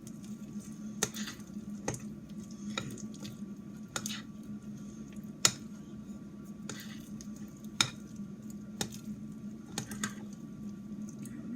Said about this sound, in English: pour some chocolate chips in. And fold them in, mix them all around.